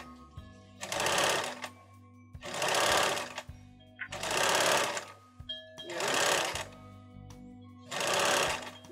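A sewing machine stitches lace onto a garment sleeve in five evenly spaced bursts of rapid needle clatter, each lasting about a second, separated by short quiet pauses, close and fairly loud.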